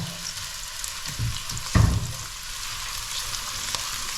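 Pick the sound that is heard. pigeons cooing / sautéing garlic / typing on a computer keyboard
sautéing garlic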